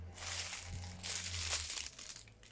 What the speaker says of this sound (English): Get rid of that plastic bag